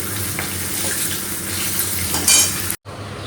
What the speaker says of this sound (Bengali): আর এখানে মাছটা ভাজা চলছে, বড় বড় পিস তো একটু ভালো করে ভাজতেও হচ্ছে